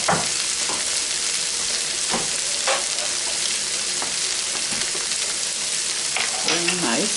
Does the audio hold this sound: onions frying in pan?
yes